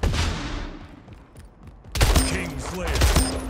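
Arena shooter Splitgate combat: loud, punchy blasts and gunfire in quick succession, one booming shot decaying before another flurry erupts, with a voice speaking over the action.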